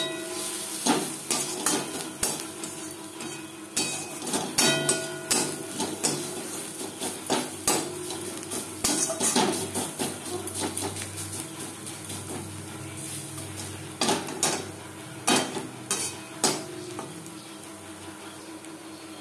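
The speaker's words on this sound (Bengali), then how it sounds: "পেঁয়াজ ভাজা হয়ে এসছে" Onions fry and get stirred in a pan for masoor dal, with repeated scraping and clinking of a spatula against metal over a steady low sizzle, close and fairly loud, with no talk.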